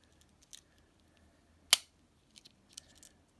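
The scissors of a Wenger Swiss Army pocket knife snap with a single sharp metallic click, with a few fainter ticks and handling clicks of the knife before and after it.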